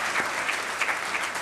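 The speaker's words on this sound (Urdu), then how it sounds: "مزید تالیاں لیڈیز اینڈ جینٹلمین." Audience at a Pakistani government laptop scheme ceremony attended by the Prime Minister applauds the son of a martyr, steady hall-filling clapping throughout without speech.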